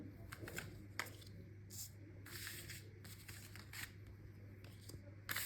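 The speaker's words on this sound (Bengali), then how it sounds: "প্রথমে আমি ইন্টুইটিভলি কয়েকটা কার্ড আগে নিয়ে নিই" Tarot cards are shuffled and drawn by hand in soft, faint riffling bursts and light slaps, close but quiet, with a low hum in the background and no speech.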